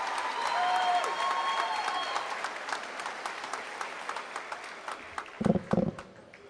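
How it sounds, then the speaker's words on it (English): A crowd at an Oklahoma State University evening commencement applauds a pipe band and anthem performers, dense clapping thinning to scattered individual claps, then a few closer thumps. "Let's give a round of applause to both of these talented groups."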